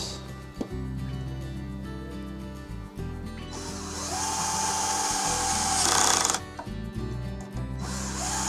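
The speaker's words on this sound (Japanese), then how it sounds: "はしごは裏からシンプルにネジで留めるだけにしました" A power drill drives screws into a wooden loft-bed ladder made from cafe boards, several loud close whirring bursts with a rising pitch as each screw seats, separated by clicks and short pauses.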